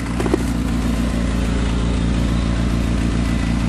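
A 1991 Suzuki Sidekick's cold engine idles high and steady, a close, even mechanical drone with a regular low pulse that holds without change throughout.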